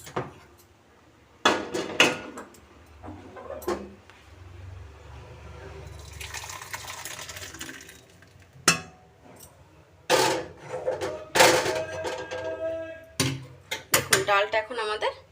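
Metal clanks and knocks as a pot of lentil dal with soft-cooked bottle gourd is lifted off the stove, several sharp bursts spread across the clip over a low kitchen background.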